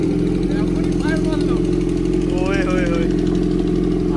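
A Kawasaki ZX4R superbike with its exhaust dB killer removed idling loudly nearby, a steady deep throbbing burble throughout while someone talks over it.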